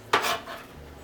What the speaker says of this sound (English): I'm going to add that in with our beef mixture